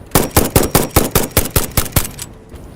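Rapid burst of about ten gunshots from a futuristic gun in the early-access factory-building game Satisfactory, evenly spaced and loud, then the firing stops.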